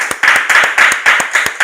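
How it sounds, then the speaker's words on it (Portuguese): Loud, close rhythmic clapping in a steady beat, several hands striking together about four times a second, with an audience keeping time during a religious podcast gathering. "Palmas aí, gente, por favor"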